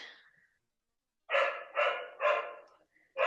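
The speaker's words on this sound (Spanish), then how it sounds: "Tiene un perrito. Una disculpa aquí, no tengo perro, es los vecinos" A neighbours' dog barks next door, a faint yelp first, then a quick run of four loud, close barks after a short pause.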